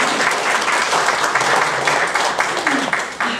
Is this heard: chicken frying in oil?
no